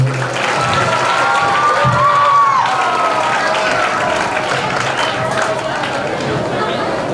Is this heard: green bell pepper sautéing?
no